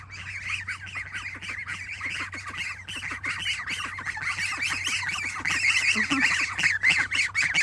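A dense chorus of goslings, ducklings and turkey poults peeping and squawking continuously, close and lively, with a steady low hum underneath.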